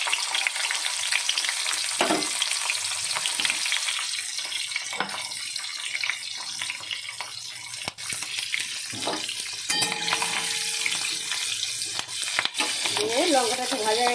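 Green chillies and five-spice seeds fry in hot oil in a Bengali kitchen, giving a steady, close broadband sizzle that runs throughout, with a few brief clinks and scrapes of stirring mixed in.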